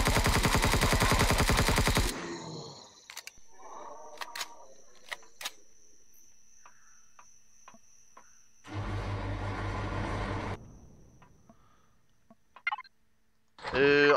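Gunfire in Empyrion Galactic Survival: a loud, dense burst of rapid fire opens, followed by sparse sharp clicks and shots, then a second long burst and a final short blast.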